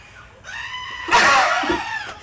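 A person imitates a goat bleat, a loud nasal wavering cry that starts thin, then swells into a harsh, quavering peak before tailing off, up close and alone.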